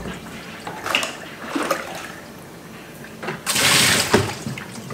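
Lukewarm water sprays and splashes inside the tub and dryer area of an LG semi-automatic top-loading washing machine during cleaning, with a louder, sustained rush of water near the end after quieter splashing.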